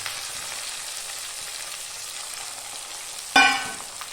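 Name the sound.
crushed shallots, garlic, ginger and green chillies frying in pan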